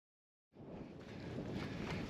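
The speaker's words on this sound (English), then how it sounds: "It is very, very windy out here and pretty darn cold." Strong, cold wind buffets the microphone outdoors with a steady, loud roaring rush that begins abruptly and continues without a break.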